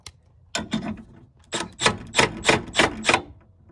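A bolt is loosened with a ratcheting tool during a catch can install on a 2020 Silverado 6.2L, heard as close, rhythmic mechanical clicking in evenly spaced bursts. No talk.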